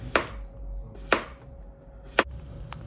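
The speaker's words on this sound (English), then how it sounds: "Now you're going to want to slice your potatoes thin." A knife cuts thin potato slices for scalloped potatoes on a board, three crisp, close chops spaced about a second apart, followed by a lighter tap, with no talking.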